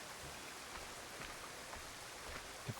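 Steady rain falls in the video game Assassin's Creed 3, an even hiss of drops on surfaces throughout, fairly faint.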